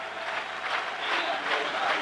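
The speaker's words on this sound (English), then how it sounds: "And the record man leaves the field to great applause." Steady applause from a football stadium crowd as goalkeeper Peter Shilton leaves the field during a 1989 Denmark versus England match, a dense, continuous clapping wash that swells slightly toward the end.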